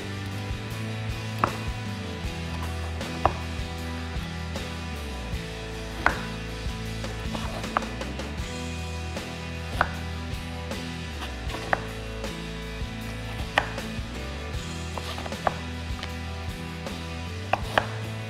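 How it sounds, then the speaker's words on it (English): A knife slicing gluten-free dough into strips about an inch wide on a board, giving a long run of soft, evenly spaced taps and thuds over a quiet steady background. "And I'm going to cut it into strips about 1 inch wide."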